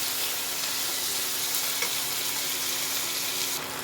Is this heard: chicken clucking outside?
no